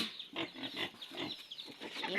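Several pigs squeal and grunt in repeated loud bursts close by before feeding, with a voice faintly mixed in.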